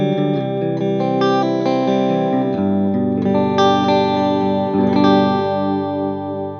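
An electric guitar played through a compact delay pedal, a Boss DD-7 or TC Flashback, rings out loud and distorted, chords and notes trailing into repeating echoes and shimmering reverb with no talking.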